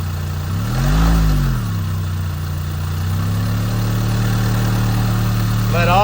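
A car engine with low, dirty oil revs briefly with a little throttle, then settles into a steady close idle, a low throbbing drone with a faint rattle beneath it.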